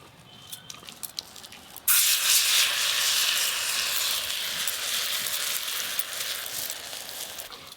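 Semolina and raw potato batter is poured into a hot oiled pan. After a few quiet seconds of faint clatter, a loud, bright sizzle bursts in and holds steady, hissing continuously close by, with no voices.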